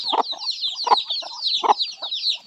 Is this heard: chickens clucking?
yes